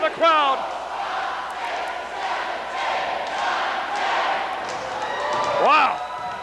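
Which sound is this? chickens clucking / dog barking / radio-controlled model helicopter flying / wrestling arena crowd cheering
wrestling arena crowd cheering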